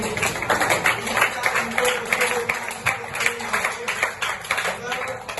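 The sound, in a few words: audience clapping for the preschool teacher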